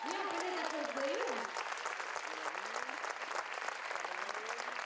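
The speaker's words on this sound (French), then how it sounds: "Oui, on peut les applaudir." Audience applause for the aestheticians at a musical fashion show, a dense, steady roar of clapping hands throughout, with voices talking and calling over it, especially early on.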